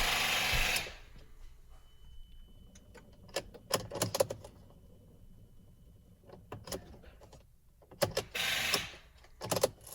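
A Ford Flex starter grinds in slow, labored bursts on a dead battery, the engine struggling to turn over, with short pauses between several cranking attempts, close by.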